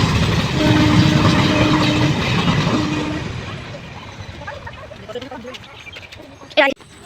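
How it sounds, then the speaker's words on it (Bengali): A train rolls past a rail crossing on a muddy village road, a loud rumbling clatter that gradually fades as it moves away, with voices talking nearby and a sharp burst near the end. "দেখো ট্রেন চলে এসেছে।"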